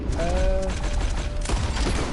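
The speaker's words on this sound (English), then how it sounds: "The gunshots are coming from that barn." Gunfire from a barn in the video game Red Dead Redemption 2, a dense burst of shots that keeps rattling through the clip, loud and fairly close, with a tonal whine briefly overlapping early on and no talking.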